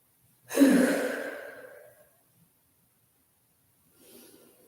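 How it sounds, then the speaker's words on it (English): A single deep, audible exhale from someone resting in child's pose during a stretch class, fading over about a second, then a faint softer breath a few seconds later. "Take a couple deep breaths."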